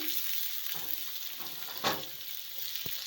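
Chopped onion, green chilli and tomato frying in a pan for a ghugni curry, with a continuous close sizzle and a few stirring scrapes.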